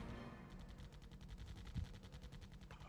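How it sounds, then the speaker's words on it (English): Machine gun positions in the strategy game R.U.S.E. fire in a rapid, even stream of bursts, dense and continuous for nearly three seconds, heard alone at moderate volume. "Machine gun positions are starting to shoot."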